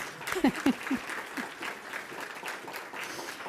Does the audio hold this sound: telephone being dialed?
no